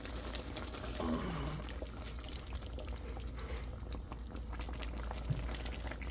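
Water boils in a cooking pot with calamansi added, a steady low bubbling rumble with a faint hiss, close and continuous, with no talking.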